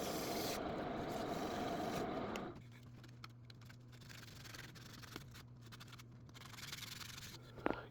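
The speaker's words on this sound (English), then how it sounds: "Usually I sand between 500 and 600 RPMs" Wooden tool handle being sanded on a lathe at about 500 to 600 RPM, a broad rough rubbing hiss for the first couple of seconds that then drops away, leaving the steady low motor hum alone.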